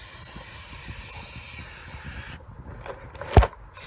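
Rust-Oleum spray paint hissing steadily from an aerosol can onto an exhaust pipe, close and continuous for a couple of seconds, then stopping, followed by a brief sharp clatter.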